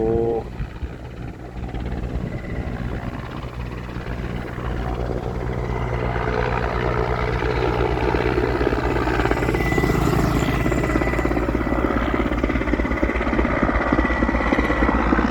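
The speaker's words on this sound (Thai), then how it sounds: "นี่ฮะการทำงานของเฮลิคอปเตอร์นะครับ" A firefighting helicopter works over a forest fire at Khao Wang Li, its rotor and engine roar building steadily from moderate to loud and continuous as it passes near, with no talking.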